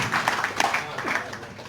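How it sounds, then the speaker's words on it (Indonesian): A church congregation at a Christmas worship service claps for Jesus in a short, uneven burst of hand claps, with voices speaking over it. "Tepuk tangan bagi Tuhan Yesus"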